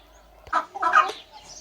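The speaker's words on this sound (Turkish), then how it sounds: "Evet, burası kümes. Kümesime giriyorum. Tavuklarımız burada." Hens in a village coop give a couple of short clucks close by, alone and over a quiet background.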